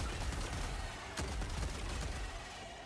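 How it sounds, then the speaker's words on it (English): Rapid video game gunfire rattles steadily while a player shoots at bugs, with a sharper burst of shots about midway, all at moderate loudness with no talking. "I love shooting the bugs."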